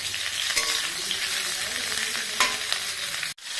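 Cauliflower florets seasoned with a little turmeric and salt fry in mustard oil, giving a steady, dense crackling sizzle with occasional sharper pops, close and continuous until it cuts off abruptly near the end.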